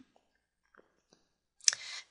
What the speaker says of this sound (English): So let's click OK.